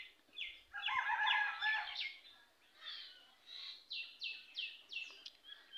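Domestic ducks and tiny ducklings raised by village women call in rapid high peeping chirps, a dense cluster of overlapping calls followed by a series of separate descending peeps, close and fairly quiet.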